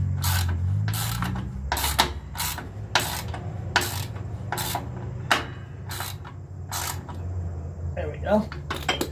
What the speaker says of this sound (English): Tighten that up.